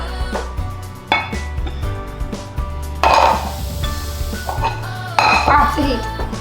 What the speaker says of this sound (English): Now I'm gonna add in our cream and then we're gonna mix.